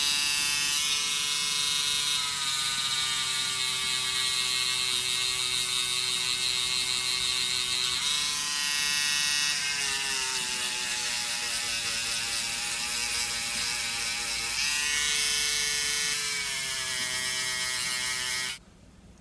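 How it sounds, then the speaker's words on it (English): A Proxxon rotary tool whines at high, steady speed while it bevels wooden bollard timbers, its pitch dipping slightly as it bites the wood, running continuously before cutting off abruptly at the end. "instead of using a chisel, I'm actually using this proxon"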